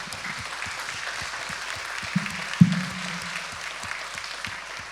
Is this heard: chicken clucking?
no